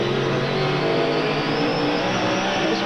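Vintage Trans Am race car on a street circuit at the 1991 Motor City 100, a loud sustained engine roar close up, steadily pulling in high gear for several seconds with no talk.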